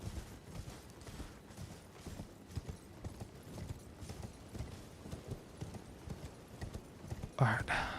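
Hooves of a mounted enemy's horse in Elden Ring clop in a steady, repeated rhythm against game ambience, with a louder burst near the end.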